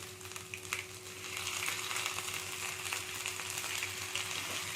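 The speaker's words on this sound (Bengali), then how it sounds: "এটাকে আমি একটু নাড়তে থাকবো যাতে এটা একটু ভাজা হয়ে যায়" Close sizzling of crushed ginger, garlic and green chili frying in a pan, a steady crackle with occasional scraping from stirring, no voices.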